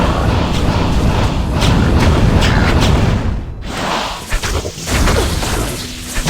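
An exploding enemy bursts in Diablo 2, a loud booming blast with whooshing crashes that rolls on for several seconds, then drops back to lighter rumbles and thuds.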